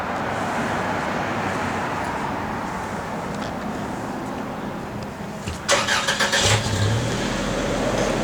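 A 1967 Chevrolet Malibu engine with 3.5-inch dual exhaust rumbles steadily at idle, loud and close, then blips into a sharper burst of revving near the end.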